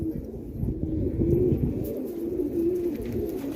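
Multani pigeons coo steadily and close by, a continuous low throaty burbling that swells and dips over a few seconds with no voices.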